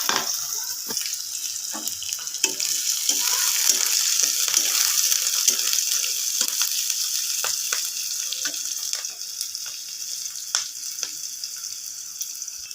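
Chopped onion and green chillies fry in a hot pan, a steady bright sizzle with frequent sharp crackles and pops, close up and fairly loud, with no talking over it.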